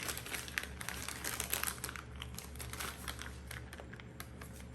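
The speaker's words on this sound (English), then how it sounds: "I'm going to just open up my piping bag that I got off Amazon" A plastic piping bag from a multi-pack is pulled open indoors at a baking counter, giving soft, quiet crinkling and rustling of thin plastic in short irregular bursts for a few seconds.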